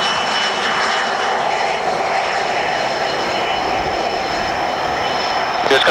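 An Air Europa Boeing 787-9 Dreamliner at La Aurora Airport in Guatemala gives off a loud, continuous jet-engine roar that holds steady for several seconds.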